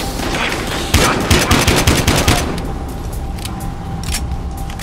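Rapid bursts of gunfire in the video game Battlefield Hardline, a loud cluster of sharp shots in the first half fading to scattered distant pops over a steady background din.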